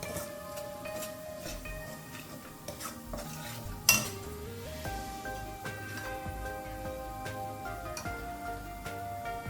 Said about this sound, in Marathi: आता हे आपण पूर्ण असं परतून घेणार आहे